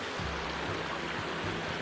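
Water rushing along a forest hiking trail in Washington, a close, steady broadband flow that fills the short moment evenly and cuts off abruptly at the end.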